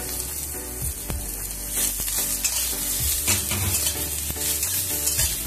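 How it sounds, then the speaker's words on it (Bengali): Brinjal frying in hot oil in a pan, a steady loud sizzle with scattered sharp crackles and pops and occasional stirring scrapes, close and continuous with no voices. "তেল গরম হয়ে গেছে, আমি বেগুনটা দিয়ে দিলাম"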